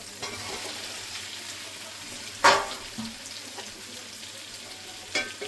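Soybean chunks, potato and raw papaya frying together with spices in hot oil give a steady soft sizzle throughout, with a sharper stir or clatter near the middle and another near the end.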